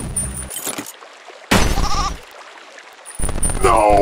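A goat in the video game There is no game bleating loudly, several close, wavering bleats broken by brief silences, with glitchy game sound effects and no speech.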